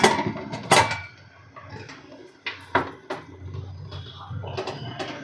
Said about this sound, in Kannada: ಸೊ ಇಲ್ಲಿ ಒಂದು ಪ್ಲೇಟ್ನ ಕ್ಲೋಸ್ ಮಾಡಿಬಿಟ್ಟು ನಾನು ಕುಕ್ಕರ್ ಲಿಡ್ಡು ಕೂಡ ಕ್ಲೋಸ್ ಮಾಡ್ತಾಯಿದ್ದೀನಿ